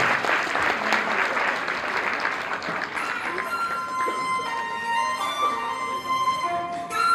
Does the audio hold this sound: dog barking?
no